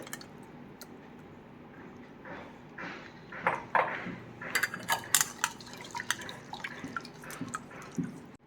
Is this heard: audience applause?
no